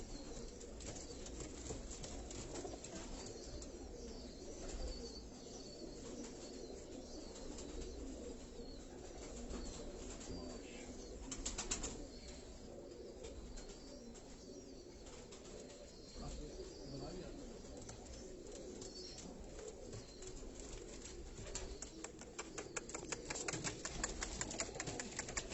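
Pigeons with dark and blue eyes, known as makoi-eyed birds, coo and flutter on a rooftop loft in Karachi. There is steady soft cooing and occasional wing flaps throughout, with someone talking over them.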